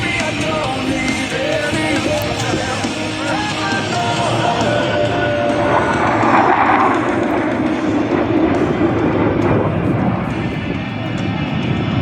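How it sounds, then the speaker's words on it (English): Blue Angels jets roaring past at an air show in a broad, loud, continuous rumble that swells around the midpoint, with crowd noise and a public address announcer underneath. "From behind the spectator area, Blue Angels 5 and 6 are approaching the flight line at 400 miles per hour."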